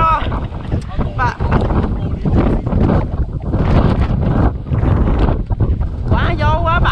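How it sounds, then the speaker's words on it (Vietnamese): Strong storm wind gusts hard against a microphone on a trip near Binh Hung, Cam Ranh, a loud continuous roar with someone talking over it. "gió bão còn rất mạnh rồi đó"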